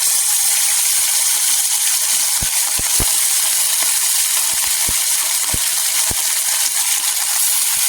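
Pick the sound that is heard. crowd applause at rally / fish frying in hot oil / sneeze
fish frying in hot oil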